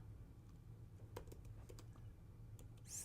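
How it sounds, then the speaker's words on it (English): Soft typing on a computer keyboard, a handful of light key taps in an irregular rhythm over a quiet background hum, very faint and close. "I'm going to type it here."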